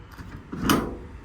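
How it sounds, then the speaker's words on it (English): A single soft clunk as a compartment door closes and latches on a 2019 International MV607 crane truck, heard faint and close with no talking. "All the doors do close, latch, lock, and seal as they should."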